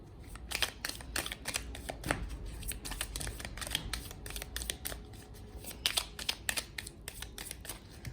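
Tarot cards shuffled by hand, a busy stream of close, crisp riffles and flicks in quick irregular bursts with no voices.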